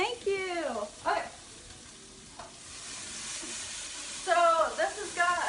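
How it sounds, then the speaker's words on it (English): Venison steak sears in a hot pan, giving a steady sizzle and hiss that rises clearly during a pause, while someone talks over it before and after. "So this has got a nice sear going on to it already."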